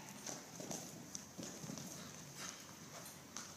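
Pony hooves clip-clop in a steady three-beat canter rhythm around an arena during a riding lesson, moderately close, with faint background noise and a brief voice in the distance.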